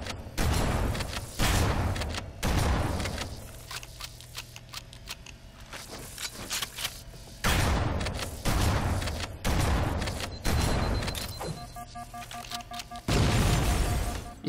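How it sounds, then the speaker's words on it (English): Booming grenade blasts and bursts of fire in Halo: Combat Evolved Anniversary, several loud, heavy impacts separated by quieter stretches of electronic game tones and ambience. "I don't know why I threw that grenade."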